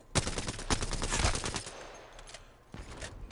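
Alternator SMG fire in Apex Legends: rapid, loud bursts of automatic gunshots crackle densely through the first second and a half, thinning to scattered shots and then a final short burst.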